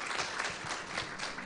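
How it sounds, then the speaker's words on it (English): Applause from a roundtable audience for the panelists at a discussion on skilling for Africa's digital economy, a steady, fairly faint wash of many hands clapping with no voices over it. "I think another round of applause for the panelists."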